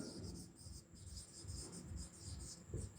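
Faint, rhythmic scratching strokes of writing on a board during a complex-numbers math class, coming in short repeated bursts.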